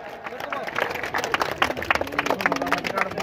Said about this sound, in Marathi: सगळ्यांनी एकदा जोरदार टाळ्या करा.